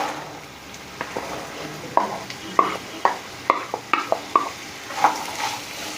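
Beetroot stir-fried in a pan, a soft continuous sizzle broken by a dozen sharp scraping stirs of a spatula against the pan, close and fairly quiet.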